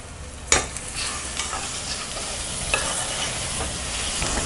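Onions and small tomatoes are stirred in a hot pan with oil, a steady sizzle broken by several sharp spatula scrapes and taps against the pan, close up with no voices.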